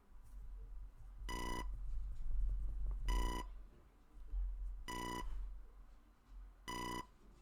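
A telephone rings in the NES game EarthBound Beginnings, four evenly spaced electronic ring bursts about two seconds apart, each bright and buzzy, over a low game backdrop with no talking.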